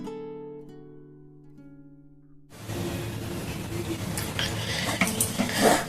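Semolina and gram flour are fried for laddu over medium-low flame and stirred, heard as continuous scraping and rustling against the pan that follows a few seconds of steady tonal sound.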